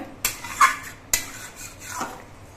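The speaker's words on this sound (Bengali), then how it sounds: "ঝোলটা একটু নেড়ে চেড়ে দিতে হবে।" Ridge gourd vegetarian gravy stirred in a pot, sharp metal ladle knocks against the rim, two distinct strikes followed by a softer scraping swirl, close and clear with a faint simmer beneath and no talk.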